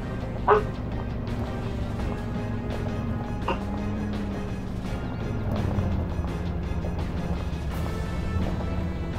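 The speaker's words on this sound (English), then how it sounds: "Is that a dog?" A dog in the survival video game DayZ gives a couple of short barks, one early and one midway, over a steady vehicle engine drone.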